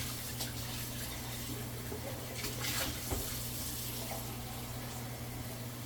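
Water runs steadily from a tap or jug into two soup pots holding potatoes, a soft continuous splashing pour with no talking.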